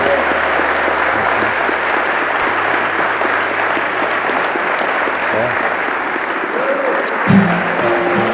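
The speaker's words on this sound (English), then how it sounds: "give them a big round of applause" Wedding guests applaud the newlyweds in the hall of Liverpool Town Hall, a steady, dense wash of clapping that holds loud throughout, with a brief louder burst near the end.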